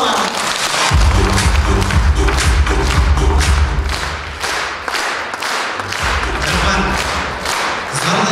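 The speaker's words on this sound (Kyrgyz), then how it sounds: "кол чаап коштоп алабыз." A concert audience claps along in steady rhythm during a Kyrgyz song evening, the loud crowd clapping layered over heavy low music and thumping beats throughout.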